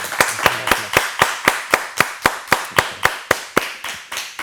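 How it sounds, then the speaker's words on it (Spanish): An interview audience claps in steady unison for José Luis Giménez, with sharp, evenly spaced claps at about four per second, close and clear with no talk. "Un fuerte abrazo y un aplauso para José Luis"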